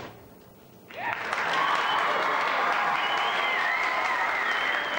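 After a brief quiet moment, a studio audience at a comedy impressions show breaks into loud, sustained applause that holds steady to the end.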